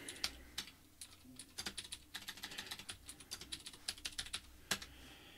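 Rapid, uneven clicks of keys on a computer keyboard, close and fairly quiet, arriving in irregular bursts with brief pauses; no voices.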